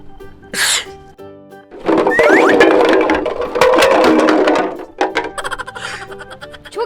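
A man's loud, exaggerated sneeze in a playful kids' show scene, building over a couple of seconds with a sharp burst and trailing vocal noise, followed by softer sounds; no talk in the clip.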